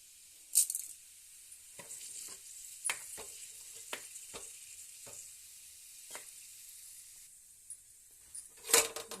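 Urad dal sizzling in hot oil for a tempering, a steady close frying hiss broken by sharp crackles and pops scattered through the clip, with a louder burst near the end.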